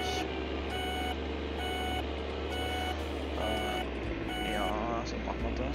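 Reversing beeps sound in steady, regular pulses as a Farming Simulator 19 tractor backs into a farm hall, over constant engine hum, with a voice speaking briefly near the end.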